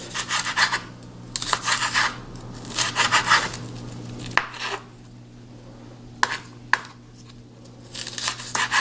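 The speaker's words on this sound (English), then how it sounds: "I'm just going to cut this into strips." A knife saws steak into strips for an omelet, giving soft, close scraping strokes on a board in uneven bursts, with a few sharp clicks between them.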